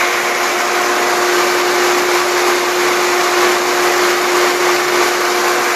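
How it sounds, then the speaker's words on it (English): A primed pool pump running steadily, a loud continuous motor drone with a fixed hum tone and broadband rush, unchanging and alone with no talk. "the pump is primed."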